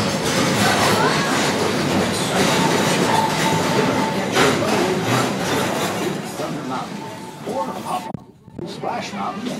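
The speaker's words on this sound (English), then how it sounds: "Folks, bring your legs inside the train, please." A Magic Kingdom theme park train rolls steadily along its rails with rhythmic clacking and rumbling, a brief squeal near the end, while an announcer's voice and people talking carry over it.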